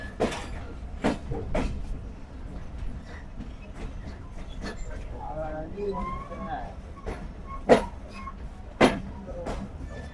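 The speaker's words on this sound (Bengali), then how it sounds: "বিকেল 6টা 35 মিনিটে আমাদের ট্রেন প্রবেশ করছে রাজশাহী রেলওয়ে স্টেশনে।" Banglabandha Express train pulling into Rajshahi railway station in the evening, with a steady low rumble, scattered clanks and a couple of sharp metallic knocks near the end, a voice murmuring faintly in the background.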